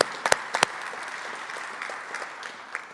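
Audience applause for families and friends at an EMS training graduation ceremony, opening with a few sharp, close claps before settling into a steady, moderately distant patter from the crowd.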